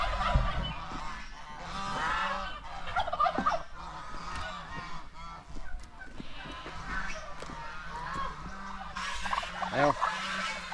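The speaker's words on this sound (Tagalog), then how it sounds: "Pakaingay sa ating mga gansa." Farmyard geese honking loudly and repeatedly, with turkeys and other fowl calling among them, a dense overlapping racket close by, with brief voices mixed in.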